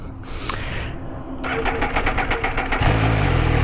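An MV Agusta Brutale 800 motorcycle engine cranks and fires at close range, settling into a steady, rising idle rumble with rhythmic pulses, ending in a louder burst near the end.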